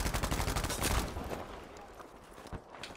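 Rapid automatic gunfire in Battlefield 5, dense and loud for the first second, then thinning into scattered shots and rumble.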